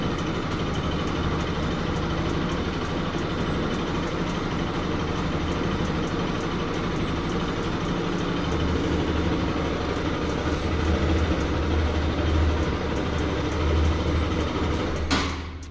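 Motorcycle engine idling steadily and close by for a long stretch, then cutting out abruptly at the end when a GPS tracker switches off the ignition.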